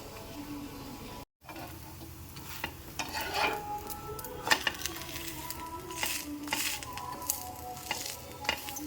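Batter made with leftover buttermilk rasam sizzles on a hot tawa over the flame, a steady close crackling hiss broken by a brief gap and light clinks and scrapes of utensils.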